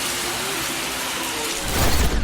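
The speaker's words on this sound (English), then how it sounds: "Did you hear it? Late summer rain in Carolina." Late summer rain falling in Carolina, a steady broadband hiss of drops on surfaces that swells a little louder toward the end, with no voices.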